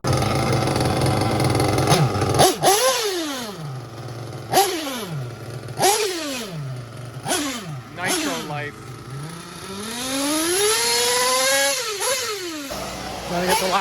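Small nitro RC truggy engines race on a dirt track during the last lap of a national event, buzzing high-pitched passes that rise and fall repeatedly, near and loud, with people talking over them.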